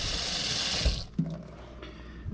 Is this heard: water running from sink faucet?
yes